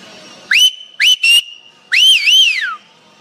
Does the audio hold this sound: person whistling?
yes